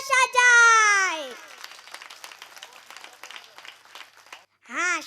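An audience claps at a lively children's kirtan, a burst of scattered, moderate applause running between loud sung or drawn-out vocal phrases from the performer.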